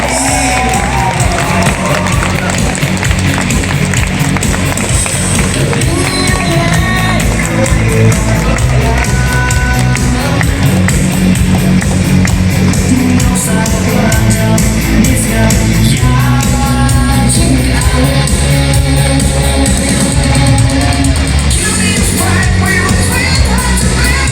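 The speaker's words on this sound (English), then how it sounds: "Come on, let's hear your loudest cheer and your applause." A live award ceremony audience cheers, whoops and applauds loudly and continuously for over twenty seconds, the crowd noise blending with music playing underneath.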